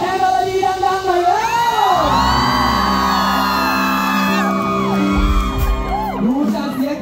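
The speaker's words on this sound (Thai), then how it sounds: "ดูจากเสียงกรี๊ดน่าจะพร้อมแล้ว" Fans at a band concert at Wat Lak Si scream, whoop and cheer loudly and continuously, with shrill high-pitched shrieks rising and falling over a dense crowd roar throughout.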